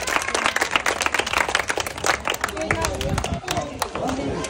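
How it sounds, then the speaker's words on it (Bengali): A crowd applauds a girl named Purnima after she wins prizes at a game, steady dense clapping close by with chatter and voices running underneath throughout. "সবাই হাততালি হোক ওর জন্য, হাততালি হোক।"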